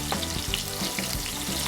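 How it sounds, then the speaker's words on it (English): Steady crackling sizzle of shrimp frying in hot oil for a po-boy sandwich, close and continuous, with small pops scattered throughout and no voices. "So let's get the shrimps in, one at a time here. Oh yeah, see how it's sizzling?"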